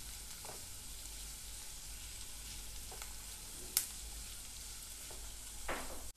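Onion sautéing in a pan for a quick Banari rassa vada bhaji gives a soft, steady sizzle, with a few scattered stirring clicks and one sharp tap partway through.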